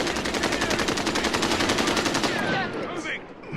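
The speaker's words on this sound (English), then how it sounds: "I'm taking fire." Dense rapid automatic gunfire in the video game Warzone, a fast continuous rattle of shots for over two seconds before it breaks off into scattered effects, loud and close.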